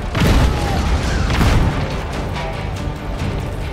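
Cannon fire in the video game Just Cause 3, heavy booming blasts near the start followed by a rumbling, crackling explosion wash that slowly fades, no speech.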